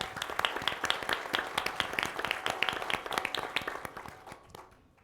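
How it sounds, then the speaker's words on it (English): Audience applause at a produce industry session, a dense patter of many hands clapping at moderate volume that fades out at the end. "Let's give them a round of applause."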